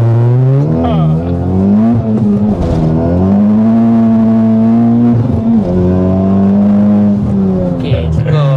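A Honda Type R engine in a virtual racing setup holds steady at high RPM, droning with a loud sustained harmonic tone and slight pitch wavers, with people talking over it throughout.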